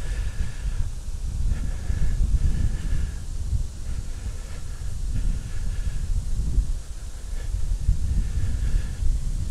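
Outdoor wind buffets the microphone at a war memorial, a rumbling, gusty low roar that swells and eases throughout, with faint background tones.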